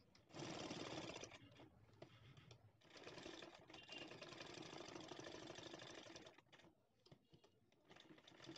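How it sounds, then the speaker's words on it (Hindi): A sewing machine stitches a fabric face mask, running in long steady mechanical bursts with short pauses between seams, close and clear. "पहले यहाँ से स्टार्ट करते हुए पूरा हम सिल देंगे"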